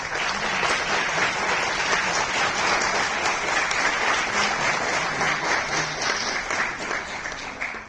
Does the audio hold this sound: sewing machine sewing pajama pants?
no